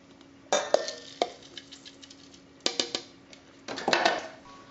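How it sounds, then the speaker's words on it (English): Coconut flour berry muffin batter stirred in a bowl: three short bursts of spoon scraping and clinking against the bowl, close and fairly quiet, with pauses between them. "Let me give this a quick stir"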